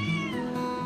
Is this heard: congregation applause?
no